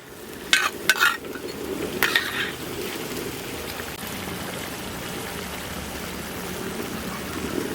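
Mutton nalli bones frying in masala, stirred and turned in the pan with a steady, loud close sizzle and a few sharp scraping clatters of the spoon near the start, no talk.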